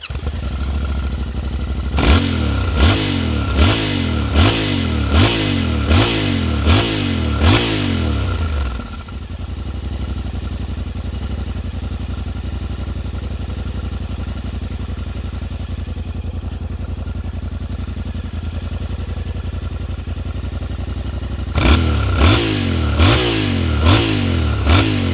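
Yamaha Ténéré 700 Extreme (2024) engine revving hard off-road: a rapid run of about eight loud rising revs, a long steady drone, then another burst of sharp revs near the end, with no talk.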